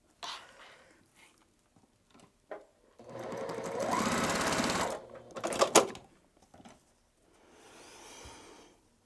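Sewing machine stitching a quilt square, a steady motor whir running for a couple of seconds and then a short second burst, with scattered handling noises and quiet fabric rustle before and after.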